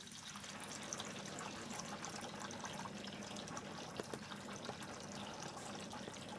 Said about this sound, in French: Vous remarquez aussi que je mets l'eau dans le seau où j'ai mis le filtre.